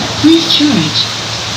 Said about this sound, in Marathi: पाऊस पडायला स्टार्ट झालेला आहे इकडे